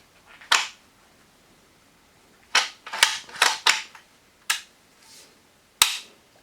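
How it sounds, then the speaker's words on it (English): Metal clicks and clacks from the bolt of a Thompson Center Venture rifle being slid back in and cycled during a function check, a single sharp click followed by a quick cluster of four or five snaps, then two more isolated clicks, close and crisp. "all we have to do now is slide it back into the rifle and perform a function check"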